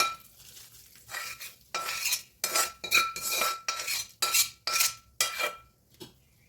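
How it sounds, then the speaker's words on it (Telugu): A tempering of cumin, mustard seeds, dried chillies and curry leaves goes into a gongura fruit chutney. A spoon scrapes and clanks against a pan in about ten rhythmic bursts, with a faint sizzle underneath. "తాలింపు అయింది దీంట్లో వేస్తున్నా ఏం లేదండి జీలకర్ర ఆవాలు ఎండుమిర్చి కరివేపాకు"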